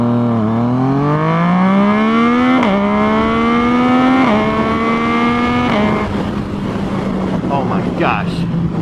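Yamaha FZ-09 motorcycle accelerates hard with its quick shifter, the engine note climbing steadily through three quick upshifts with brief dips in pitch, then settling into a steady roar with wind noise as it holds speed.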